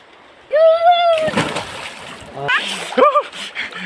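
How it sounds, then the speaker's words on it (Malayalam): Water splashes and sloshes in a river as people bathe, with bursts of splashing between voices talking close by. "ഞാനും അമ്പാടിയും കുളിക്കാനായിട്ട് പുഴയിലേക്ക്."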